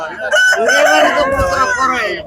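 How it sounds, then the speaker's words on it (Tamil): Many roosters crowing together at a crowded temple Pongal festival, overlapping loud crows close by with clucking fowl and festival crowd noise beneath. "இவ்வளவு சேவல்கள் நிக்குதுன்னு பாருங்க"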